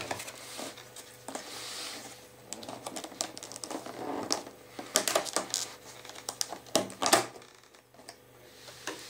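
Plastic packaging around a store-bought Ideal cake from a Ukrainian supermarket is opened, with quiet crinkling, rustling and small clicking handling noises at close range and no speech.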